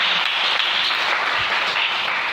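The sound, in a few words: congregation applauding in church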